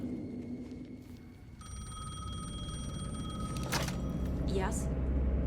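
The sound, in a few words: telephone ringing in video game Alan Wake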